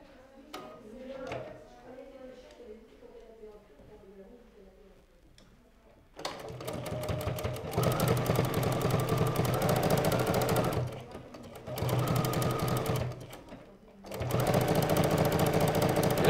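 Bernina sewing machine fitted with presser foot no. 51 stitching suede, a fast steady mechanical whir in loud bursts with brief pauses, preceded by soft handling noises and quiet talk.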